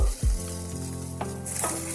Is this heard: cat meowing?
no